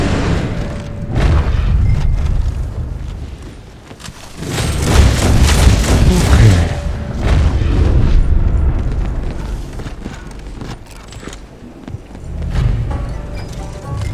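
Explosive rounds in Red Dead Online erupt in loud, close, rolling booms that swell and fade, with sharp cracks and galloping hooves between blasts.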